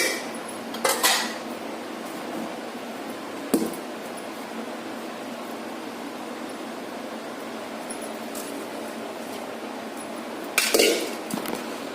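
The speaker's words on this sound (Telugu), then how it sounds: "ఇప్పుడు ఇందులోకి ఉడికించి పెట్టుకున్న రైస్ వేసుకోవాలి" Cooked rice being added to a chicken dum biryani pot, with a few close clinks of a metal spoon or ladle against the pot over quiet kitchen background.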